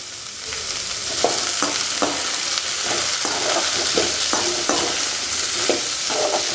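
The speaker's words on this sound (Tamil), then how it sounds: "தக்காளி சேர்த்துக்கிட்டு நல்லா ஒரு வதக்கு வதக்கலாம்" Chopped tomato sautéing in a pan for chickpea kurma, a steady loud sizzle with repeated scraping strokes of a spatula stirring close by.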